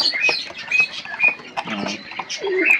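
Pigeons, including a black-tailed pair, peck and eat chickpeas in a loft at night, with quick pecking taps, soft scuffles and light wing flutters close by and no clear speech.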